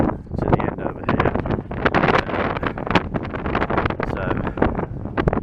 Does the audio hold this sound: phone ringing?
no